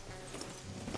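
Horse hooves clip-clop in a quick, steady rhythm, moderately close, with faint ambient sound beneath, in the video game Red Dead Redemption 2.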